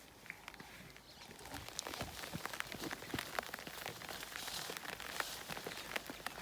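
Light morning drizzle patters steadily on nearby surfaces on safari, a soft, continuous hiss scattered with sharper individual drops, faint and with no voices.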